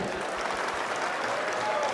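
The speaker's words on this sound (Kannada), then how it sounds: "ಶಶಿ ಸರ್ಗೋಸ್ಕರ ಒಂದು ಜೋರ್ ಚಪ್ಪಾಳೆ" A loud, dense burst of applause fills a hall for film star Shashikumar on stage. The clapping runs continuously and evenly for the whole stretch.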